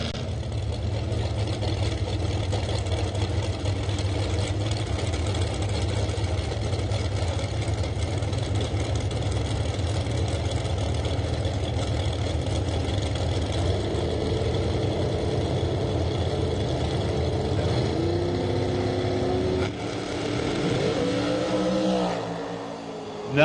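Junior dragster engines idle steadily at a drag strip before a qualifying time-trial run, a continuous loud mechanical drone that rises into revving near the end.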